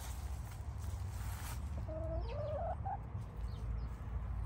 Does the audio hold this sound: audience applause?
no